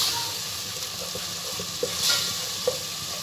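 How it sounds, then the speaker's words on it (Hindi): Tomatoes fry in ghee in a pot for mutton korma, giving a soft, steady sizzle close by with a few faint clicks of stirring. "ये डाल के हमने अच्छे से इसको भूनना है टमाटरों को, जब तक कि इसका जो है ऑयल ऊपर नहीं आ जाता"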